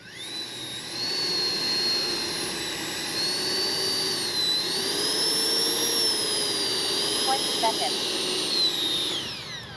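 FMS 64mm EDF Rafale RC jet running in reverse thrust, a loud, steady high-pitched ducted-fan whine that swells and dips slightly for about ten seconds, with a voice talking over it.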